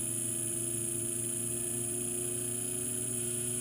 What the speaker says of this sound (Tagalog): So yan, umaandar ang compressor natin.